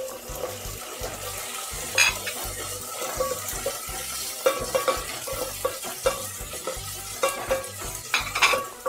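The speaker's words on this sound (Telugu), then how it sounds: "టమాటాలు మెత్తగా అయ్యేంత వరకు తిప్పుదాం" Tomatoes and green chilies fry and sizzle in a pan for a Telugu brinjal fish curry, with steady clinks and scrapes of a stirring spoon against the metal and a faint trickle of water, no voices.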